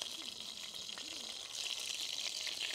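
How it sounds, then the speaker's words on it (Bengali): Food frying in a pan of oil, a continuous, fairly soft sizzle with spattering crackles that grows slightly busier toward the end; faint voices are audible beneath it. "যে তেলের ছিটে আসে হাতে"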